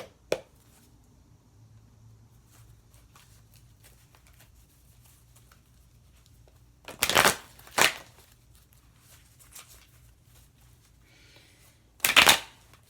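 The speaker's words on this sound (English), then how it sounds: "I usually do have to shuffle these in parts" Tarot cards shuffled in parts, heard as two short, crisp riffling bursts several seconds apart, with faint handling noise in between in a quiet room.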